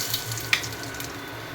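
Cumin and curry leaves hit hot oil for a tempering, a brief burst of bright crackling sizzle over a low background hum.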